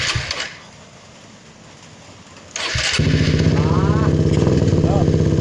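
A motorcycle engine is cranked with the starter, catches after a sharp burst and settles into a steady, loud close idle, with a voice briefly audible during the rumble.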